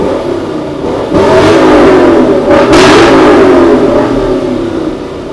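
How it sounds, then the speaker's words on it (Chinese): A Lexus LC500 sports car revs hard on a race track, its engine note climbing loudly and steadily. The roar swells to a peak with sharp popping bursts, stays close and dominant throughout, and has no talk over it. "有没有发现它转速越高的时候它就有一个非常大的鸣爆声"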